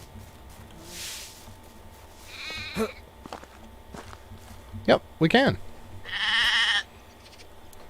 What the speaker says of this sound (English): We might be able to shear some of them sheep now